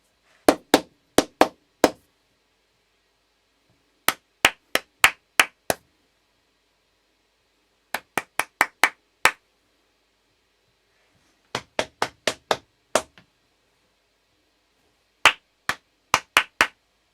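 Crisp hand claps in short rhythmic patterns during a choir warm-up, loud and close, in groups of four to six with pauses of about two seconds between them and no voices.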